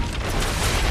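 A house blows up in a gas leak explosion in a movie, heard as one dense, loud roar of rushing noise that fills the whole second.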